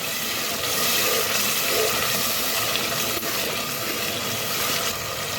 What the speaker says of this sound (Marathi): गरम पाणी घालते थोडंसं